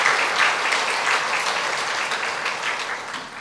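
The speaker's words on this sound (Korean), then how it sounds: "우리 박수 한번 크게 환영하시죠?" A church congregation claps warmly to welcome its elders, a dense sustained round of applause from a sizeable crowd in a hall, fading slightly toward the end with no one speaking over it.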